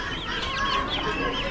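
Polish chickens clucking at an Amish animal auction, a close, busy run of overlapping clucks and squawks with no talking.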